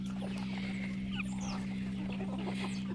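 A breeding rooster with a leg problem clucks softly and intermittently over a steady low hum, with scattered faint chirps around it.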